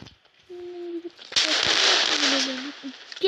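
A firecracker bursts outdoors amid a group playing with fireworks, giving a sharp blast followed by a spreading crackling hiss that lingers, with voices chattering and a whistling tone beforehand.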